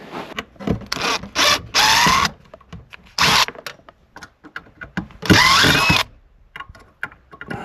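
A power drill whines in several loud bursts of one to two seconds while drilling out an old bathroom vent piece, with quieter handling clatter between the runs.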